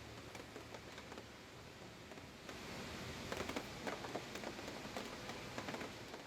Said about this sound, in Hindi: तो कहीं हल्की बारिश है